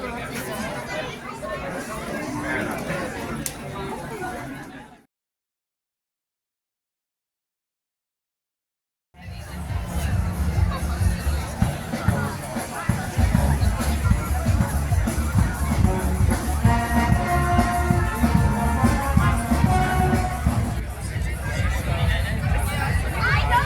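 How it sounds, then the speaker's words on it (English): A crowd chatters at a busy venue during a rest break, a steady babble of many voices with a few seconds of silence near the start, then a dense, fairly loud hubbub that carries on. "There's a good crowd here."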